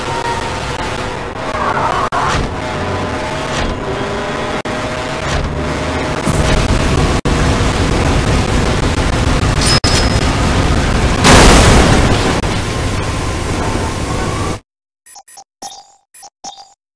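Cars crash in the racing video game Burnout 3, played through a PS2 emulator: a long stretch of loud roaring engine and impact noise with booming hits and a sharp burst near the end, then abrupt near-silence with a few faint sounds.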